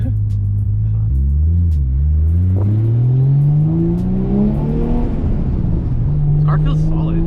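Nissan Skyline R34 M-Spec Nür in Millennium Jade, its engine heard from inside the car climbing steadily through the revs in a loud, droning pull, then easing back to a lower steady note, with voices talking over it.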